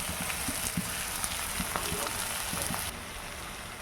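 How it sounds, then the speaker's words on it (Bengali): Spice paste with green and powdered chilli frying in hot oil, a steady dense sizzle with faint stirring clicks, close and continuous, with no talk over it. "মশলাটা আমার ভাজা হয়ে গেছে, তেল ছাড়তে শুরু করেছে।"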